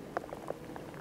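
Rain falls on a canal during feeder fishing, heard as faint, scattered droplet taps and soft patters over a quiet background for about a second.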